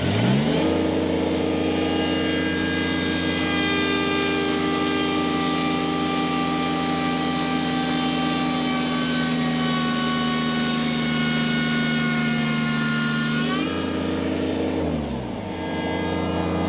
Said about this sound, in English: So rev up, wide open.